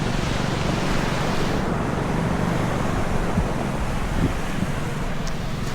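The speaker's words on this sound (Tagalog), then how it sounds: "Ang hangin." Strong wind at sea near small rocky islets, roaring steadily and close on the microphone with a constant broadband rush and buffeting, no voices.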